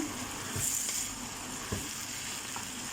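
Bitter gourd frying in a pan sizzles steadily while a utensil stirs it, giving a few soft scraping knocks over the constant hiss, close and moderately quiet.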